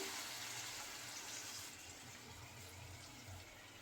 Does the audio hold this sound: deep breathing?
no